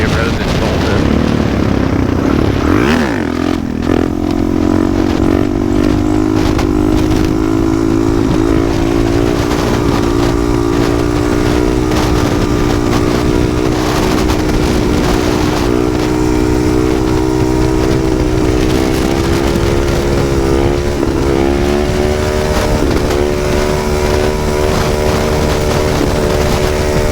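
A motorcycle rides along a smooth, well-kept three-lane road in Tulsa, its engine droning steadily and rising in pitch as it revs for wheelies, with loud wind rush throughout and the rider talking over it.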